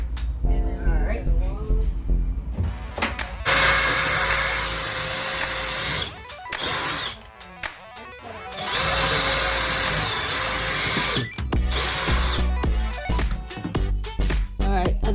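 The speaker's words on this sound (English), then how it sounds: "I'm gonna have to screw these together." A power drill driving screws to join closet pieces in a skoolie bus build, two long high-pitched whirring runs separated by shorter bursts and pauses, loud and close, with a few spoken words around it.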